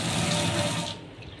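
Strong water gushes from a tap into a kitchen sink basin, a loud continuous splashing rush that cuts off abruptly partway through, leaving a quieter trickle.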